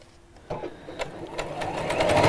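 A domestic sewing machine stitches close alongside a cord in fabric, its motor building into a steady rapid whir that gets louder and faster over two seconds after a soft start.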